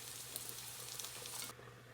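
Queso de freír, a Dominican frying cheese, sizzling in a pan with a faint continuous hiss and light crackle that cuts off abruptly near the end.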